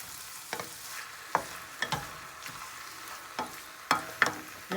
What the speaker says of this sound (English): You're going to stir these, cook all this up together for maybe 2 minutes, 3 minutes